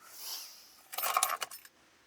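Two keys and two remotes for a one-owner Toyota Tacoma TRD jangle in one short, bright metallic burst lasting under a second, close up in an otherwise quiet room.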